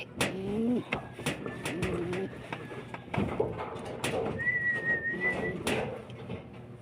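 Soft pigeon coos and bird calls repeat amid a busy outdoor scene, with people talking nearby and a brief whistle-like tone.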